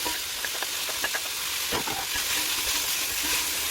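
Cut vegetables, bell pepper and chili sauté in a pan for chicken pasta, making a close, continuous hissing sizzle broken by light stirring scrapes.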